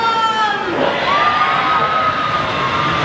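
A large crowd cheers and shouts across the way at Disney California Adventure, a loud, steady roar with whistling tones rising above it.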